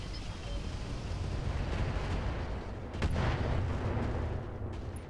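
Heavy mech weapons fire in the Roguetech battle game, a dense rumbling barrage of booms that swells sharply around the three-second mark and holds loud, with no talking over it.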